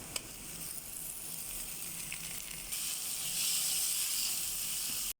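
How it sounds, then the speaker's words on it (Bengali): Onion, ginger and garlic hit a pan of hot ghee just after fish was fried, a steady hissing sizzle that swells louder midway and cuts off abruptly at the end, without speech. "মাছ ফ্রাই হয়ে গেল, দিয়ে দিলাম পেঁয়াজ, দিয়ে দিচ্ছি"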